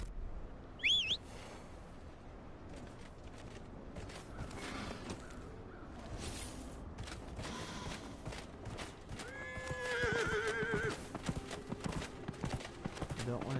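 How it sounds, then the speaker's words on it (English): A horse in the video game Dragon Age: Inquisition gives a short shrill neigh early on, followed by soft hoof clip-clop and ambient game sounds, faint under background noise with a voice present. "horse."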